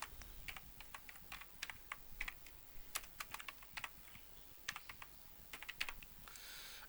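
Steady clicking of keys on a computer keyboard while a job title is typed into a Quora profile, quick uneven bursts of close, fairly quiet taps with no talking.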